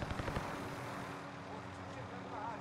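A helicopter in Call of Duty Warzone takes incoming fire, its rotor drone running under a rapid burst of gunfire impacts near the start, with a voice speaking over it.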